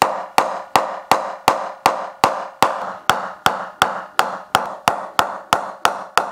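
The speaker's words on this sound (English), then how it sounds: "I need to knock in this world-class Willow Chaos because I'm going to use it." A brand-new willow cricket bat is knocked in with a steady series of about twenty crisp, woody knocks at an even, brisk rhythm, each sharp strike ringing briefly and close by, with no talking.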